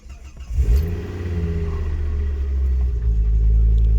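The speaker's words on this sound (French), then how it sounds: "premier démarrage en changement de boîte." A Ford Focus ST Mk2 engine cranks and fires after a gearbox change, catching with a sharp rising burst and then settling into a deep, steady, loud idle rumble.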